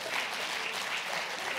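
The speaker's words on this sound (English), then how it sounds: "So a big round of applause for" An audience at an education department reading-strategy launch in the Eastern Cape gives a brief, steady burst of applause, a close, even crackle of many hands with no pause.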